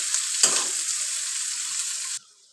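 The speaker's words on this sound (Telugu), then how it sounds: "ఆనియన్స్ బాగా వేగాయి" Onions fry in a pan with a bright, even hiss, broken near the start by one clunk of a utensil, then cut off abruptly at the end, close and fairly loud with no voices.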